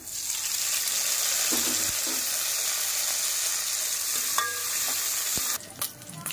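Ginger garlic paste and mint sizzle steadily in a hot pan, a continuous close hiss with a few light clicks of a spoon stirring, and no voices.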